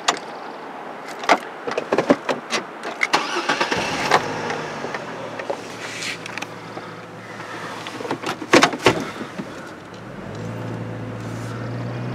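A car climbs a mountain road south of Evanston toward the Uinta Mountains, giving a steady low road-and-engine rumble broken by sharp clicks and knocks from inside the cabin.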